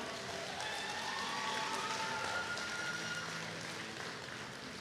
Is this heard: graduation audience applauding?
yes